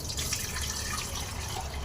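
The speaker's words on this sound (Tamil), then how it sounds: "தண்ணி வந்து நம்ம தனியாக வடிகட்ட போகிறோம்." Water drained from soaked turkey berries runs through a strainer, a continuous close trickle and splash with small dripping sounds, alone and with no talk.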